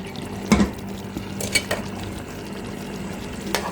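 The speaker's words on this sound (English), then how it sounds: "they always add in a little hot water, not cold water, when you're stewing your beef" Hot water goes into a pot of beef stewing for a St. Lucian burnt-sugar stew, making a low simmering bubble with a few sharp splashes and sizzles, close by and without speech.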